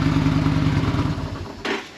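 A KTM 1290 Super Adventure motorcycle idles with a low, throbbing rumble that fades as the engine is switched off, ending in a brief clunk, heard up close.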